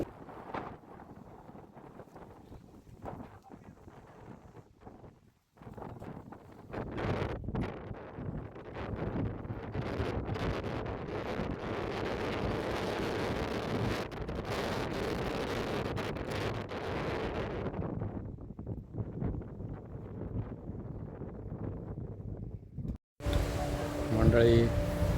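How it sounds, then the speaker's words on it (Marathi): Strong wind at Anuskura ghat buffeting the microphone in a sustained roaring rush, loud and close, with a person speaking over it. "इथे खूप छान मस्त वारं सुटलं आहे"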